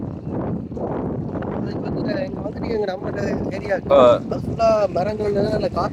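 Steady wind buffets the microphone outdoors on farmland in Urumpirai, Jaffna, a constant low rumble throughout while people talk over it.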